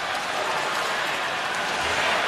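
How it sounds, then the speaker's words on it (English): A hockey arena crowd at a world junior championship final between Canada and the USA serenades goalie Jack Campbell, a dense, steady roar of many voices filling the space without break. "Crowd serenading Jack Campbell."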